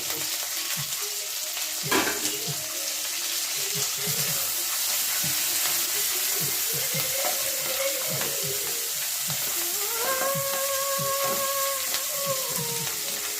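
Onions and curry leaves fry in hot oil in a pan for goat head curry, giving a continuous loud sizzle with bubbly crackles and occasional stirring clatters, close by, while a voice talks briefly in the background.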